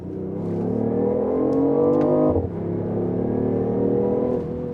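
BMW i8 plug-in hybrid sports car accelerating with its synthesized sports-car engine sound, a loud steady rising drone that dips briefly midway, then climbs again, with no talk.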